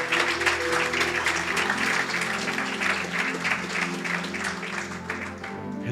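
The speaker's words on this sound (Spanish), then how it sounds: "Ese Jesús, Él merece un aplauso" Steady applause from a church congregation fills the whole span, dense and continuous clapping at an even level with no pauses.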